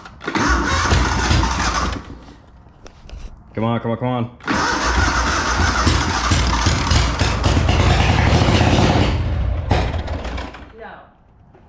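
A Cub Cadet 2206 riding mower engine with no muffler cranks and catches, then runs loudly and roughly close by while someone talks over it, before sputtering down near the end.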